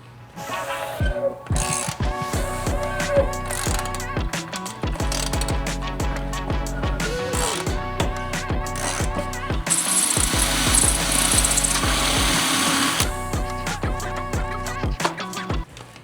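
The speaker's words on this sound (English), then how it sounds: "So this fitting size is a 1/2 inch NPT. So that's what we're going to be tapping this back hole with." A 1/2 inch NPT tap is turned into a hole in an Evo 8 valve cover with a ratchet, giving continuous, close clicking and grinding metal mechanism noise with a denser, harsher stretch in the middle and no talk.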